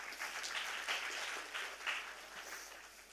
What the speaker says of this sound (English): So huge round of applause to all of you.